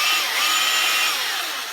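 A Milwaukee M18 16-inch battery chainsaw cuts branches, its motor holding a loud, continuous high whine that fades slightly toward the end, with no voices.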